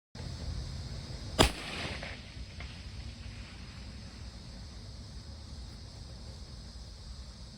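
A single sharp .308 rifle shot is fired at a target outdoors, a loud crack followed by fading echo and wind noise, with no talk.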